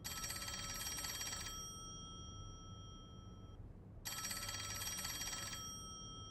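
Electronic ringing of a secret direct-line telephone in the video game Master Detective Archives: Rain Code, two bright bursts of trilling ring with a pause between them over a low background hum.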